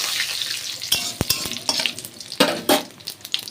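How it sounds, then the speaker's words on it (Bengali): Whole spices (bay leaves, dried red chillies, cumin seeds and whole garam masala) sizzle in hot oil in a wok, with crackling spatters and sharp utensil scrapes and clicks over a steady hiss. "ফোড়নে আমি দিয়ে দেবো তেজপাতা, শুকনো লঙ্কা, গোটা জিরে, গোটা গরম মশলা"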